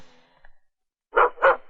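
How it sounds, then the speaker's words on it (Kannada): Two close, loud barks from a pet dog, sounding strained and unusual, each following a short pause after faint background noise. "ಯಾಕಪ್ಪ ಡಾಲ ಈ ಟೈಪ್ ಬೊಗಳ್ತಾ ಇದ್ಯಾ?"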